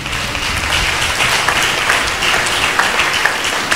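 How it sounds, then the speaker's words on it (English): A church conference congregation applauds together, a loud, dense wash of clapping that holds steady from start to finish with no talk over it. "So let's clap for Jesus."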